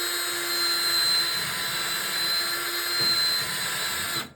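Power-driven bore brush spinning inside the oil galleys of a 1914cc VW/Porsche magnesium engine case, a loud steady high-pitched whine with a constant tonal drone that cuts off abruptly at the end.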